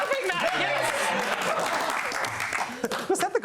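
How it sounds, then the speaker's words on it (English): A studio audience claps steadily through the whole stretch, dense and close, with a voice speaking over it near the end. "They're clapping that"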